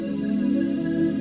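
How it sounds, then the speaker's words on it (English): Glass pad synth with a flanger effect, a sustained, shimmering chordal tone with a slowly sweeping, textured sheen, steady and fairly soft with no talking. "And then this is a flanger."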